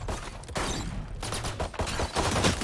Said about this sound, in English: Busy shooting at cameras.